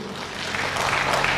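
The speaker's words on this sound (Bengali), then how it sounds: "তাই ওনাদের জন্য একটা জোরে হাততালি হোক" An auditorium audience applauds the sponsors at a stage show, a dense, steady wash of many hands clapping that swells slightly louder toward the end.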